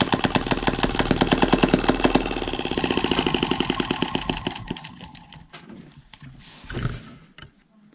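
A small Eachine ET5 water-cooled four-stroke OHV pushrod petrol model engine runs with a rapid, even chugging close by, then cuts out partway through, leaving quieter mechanical noises and a brief late burst.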